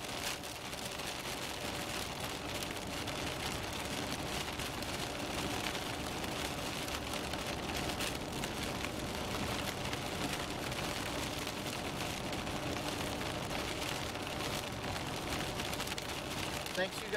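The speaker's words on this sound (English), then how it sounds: "The rain's starting to let up a little bit" Steady light rain falls on surfaces outdoors as it starts to let up, a continuous broadband hiss with soft patter that holds even and moderately faint throughout.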